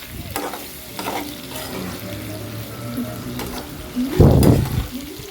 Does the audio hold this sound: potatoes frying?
yes